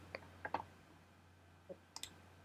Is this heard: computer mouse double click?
yes